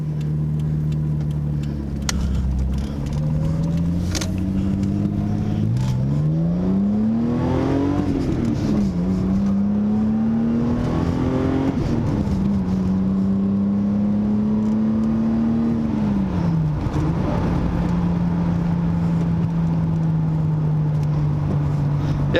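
A Toyota MK2 Supra engine revs up through several gears, its pitch climbing and dropping at each shift, loud and close with no voices.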